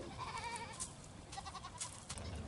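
Goats bleat on a farm, a few overlapping calls near and far over steady outdoor background noise.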